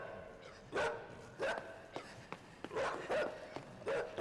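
A dog in the dark puzzle-platformer INSIDE gives several short barks spaced over a few seconds, each one clear and fairly near against a quiet game backdrop.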